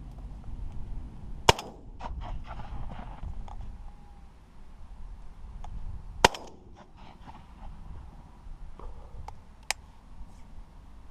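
Two sharp, loud shotgun blasts, several seconds apart, fired at crows over a summer silage field, with softer clicks and faint distant pops in between against quiet outdoor background.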